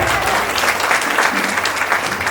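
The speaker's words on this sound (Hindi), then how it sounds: "अगर तैयार है तो जोरदार तालियां बजेंगे" An audience at a senior trainers' conference breaks into vigorous applause, a dense, loud, continuous clatter of many hands heard on its own.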